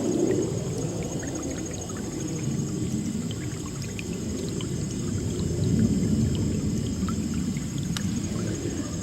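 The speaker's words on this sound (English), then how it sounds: "Get down here so we can maybe hear the creek." Creek water flows steadily in a broad, constant wash near a bridge in a valley, close and continuous with no talking.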